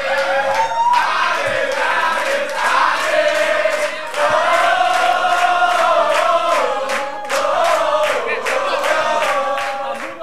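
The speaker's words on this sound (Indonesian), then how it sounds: "Tepuk tangan sekali lagi untuk" A live audience at a regional East Java stand-up comedy audition cheers and whoops loudly for a comedian, shouts rising and falling in waves with some clapping mixed in.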